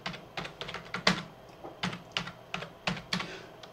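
Slow, uneven keystrokes on a computer keyboard, hunt-and-peck style with two fingers, each tap distinct and close, about a dozen clicks in loose bursts with no talking.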